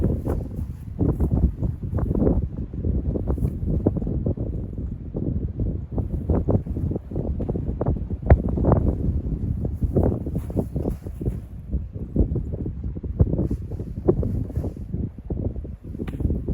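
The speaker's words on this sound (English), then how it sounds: "Straight headwind." A strong headwind buffets the microphone on a lakeside disc golf course, loud continuous low rumbling gusts that surge and fade throughout, close and harsh, with no talking.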